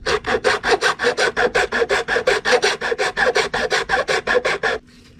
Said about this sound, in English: You can use a normal metal file.